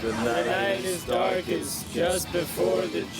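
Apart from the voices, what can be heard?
None of the usual background noises is heard.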